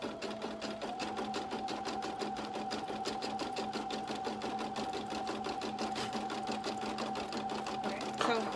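A single needle embroidery machine stitches an appliqué on a burp cloth with a steady, rapid mechanical chatter and a sustained whine that runs unbroken throughout, close and even.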